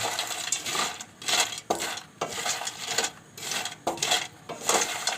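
Raw peanuts stirred as they roast in hot sand in a pan: a steady, gritty rattling and hissing swish comes in regular rhythmic sweeps, close and moderately loud, with brief pauses between strokes.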